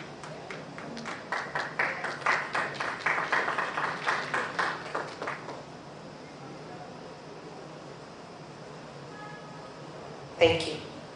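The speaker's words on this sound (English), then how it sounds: "Applause." An audience at a conference session claps, a scattered round of hand claps building then fading out after several seconds, followed by quiet room tone and a short bump near the end.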